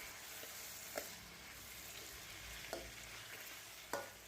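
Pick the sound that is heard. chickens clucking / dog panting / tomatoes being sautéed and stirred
tomatoes being sautéed and stirred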